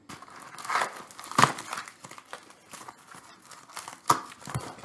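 Packing tape being torn and peeled off the packaging of a pinball machine dust cover, with crinkling plastic and sharp ripping bursts at close range.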